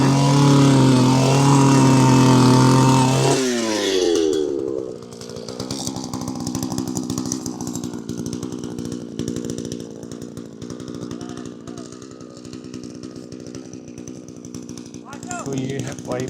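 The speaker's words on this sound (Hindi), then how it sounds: "ये जो इनका ये अर्थ ऑगर होता है, ये इसे कैसे ड्रिलिंग करते हैं" A small engine-driven earth auger drills into farm ground to set pipes. A voice is heard at first, then the engine drones loud and steady, a rough buzzing that runs to the end.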